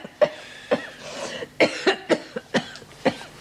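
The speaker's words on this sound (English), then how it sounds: "How long have you had that cough?" Seven or eight sharp coughs in an uneven series, close and fairly loud, with a little throat clearing between them.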